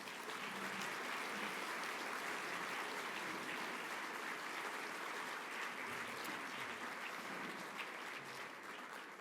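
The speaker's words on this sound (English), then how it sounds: "So we should give the music teachers a round of applause too" An audience claps for music teachers at a school band concert by the Eltham High School Training Band; steady, dense applause continues evenly throughout, with no talk over it.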